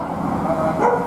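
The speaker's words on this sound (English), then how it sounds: "You got a dog bark." A dog barks outdoors during a trip to London, a short muffled bark mixed into steady background noise with no clear speech.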